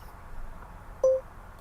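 The voice recognition system in a 2014 Ram 1500 Sport gives one short, clean beep inside the quiet cab, sounding alone over faint background hum.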